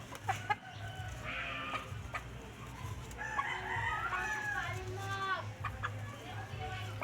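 White Kelso chickens in a backyard coop cluck and a rooster crows, repeated rising calls and short clucks close by, with some human talk mixed in over a low outdoor hum.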